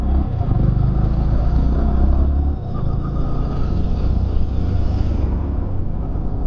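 A Yamaha R15M motorcycle, WGP 60th Anniversary Edition, running after a restart, its engine giving a steady close rumble that dips briefly midway then holds an even drone.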